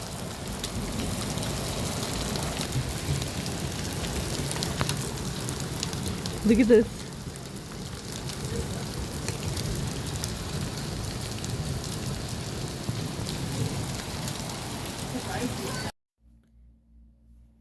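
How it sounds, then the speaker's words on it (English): Hail and rain pelt down during a storm in a steady, dense hiss that runs unbroken for about sixteen seconds, with a brief spoken voice partway through. "You see those little white things? That's hail."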